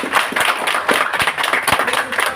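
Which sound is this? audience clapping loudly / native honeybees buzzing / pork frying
audience clapping loudly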